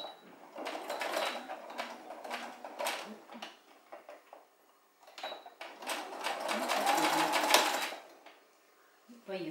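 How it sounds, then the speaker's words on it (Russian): A home sewing machine stitches a curtain valance in two bursts of fast, rattling needle runs with a short pause between them, close up, as a person talks quietly. "Итак, опускаем иголочку, делаем закрепку"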